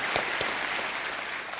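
A studio audience on a quiz show breaks into steady, dense applause that welcomes the contestants, loud and continuous for under two seconds with a few sharper claps near the start.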